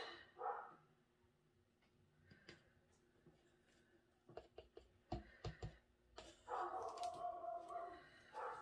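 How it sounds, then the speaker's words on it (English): A neighbour's dog, left alone at home, barks a few times in short sharp bursts at a distance, with quiet background sounds in between. "That poor dog is left alone until somebody comes to feed him."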